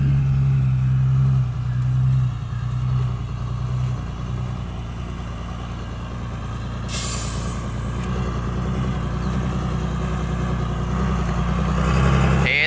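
A ten-wheel dump truck's diesel engine runs steadily at a sand stockpile yard, a loud close low rumble throughout while the load is tipped, with a brief hiss partway.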